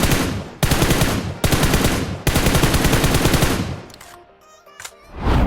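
Bursts of automatic gunfire in the mobile battle royale game BGMI/PUBG: three loud, rapid-fire volleys, separated by brief gaps, then a quieter stretch of game sounds before another burst starts.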